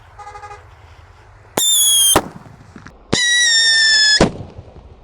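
Paper-wrapped firecrackers from a Happy Power 3 pack going off outdoors, two long bright hissing, shrieking bursts of about half a second and a second, with crackling between them and low rumbling background.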